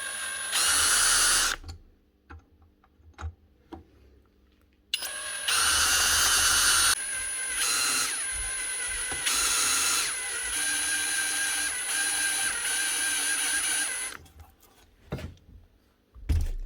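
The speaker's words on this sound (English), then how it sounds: "So drilling in a little bit might even just take this out, and if it doesn't, put in a bigger bit" An electric drill bores into a broken saw blade bolt on a miter saw, running in several loud whining bursts of varying length separated by short pauses and small clicks.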